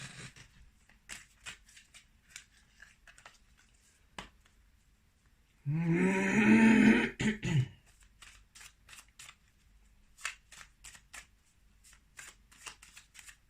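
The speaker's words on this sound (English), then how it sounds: "let's just pull 3 more cards just to wrap this up" A stack of tarot cards is riffled and shuffled in one loud, fast burst lasting about two seconds, set among quiet, scattered card taps and handling clicks.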